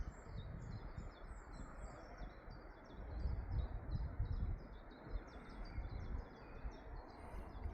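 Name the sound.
birds singing outdoors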